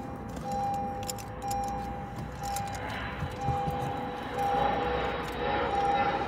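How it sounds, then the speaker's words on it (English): A broad airplane drone passes overhead, heard from inside a Honda Civic Si, swelling gradually, mixed with a steady tonal hum and occasional light clicks and rattles nearby. "Oh, that's a plane overhead,"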